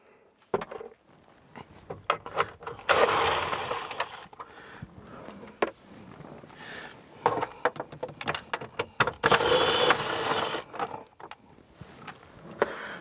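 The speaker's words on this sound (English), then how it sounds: "we're just going to pull these screws out, making sure not to drop them" Screws are taken out of a GM instrument cluster at close range, giving scattered small clicks, scrapes and light metallic rattles in irregular bursts, with no one talking.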